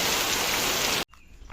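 Heavy monsoon storm rain in Mandangad pours as a dense, steady hiss for about a second, then cuts off abruptly to near silence with faint scattered sounds.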